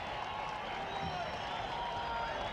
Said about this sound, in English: And there's the Doughboy getting the rouse of the crowd